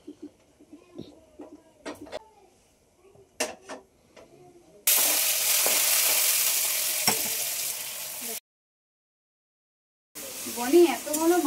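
Meat being cooked in a pan, heard as a loud, dense sizzle that runs steadily for a few seconds, with people talking before it and again after it cuts out.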